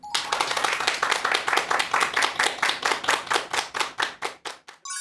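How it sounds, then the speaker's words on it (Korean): A lecture audience applauds with brisk, even clapping that builds, holds, and then thins out near the end into a few scattered claps. "큰 박수 부탁드립니다"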